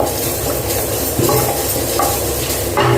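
Mustard seeds and fenugreek dry-roasting in a pan, a loud continuous sizzle and crackle with occasional scraping from stirring.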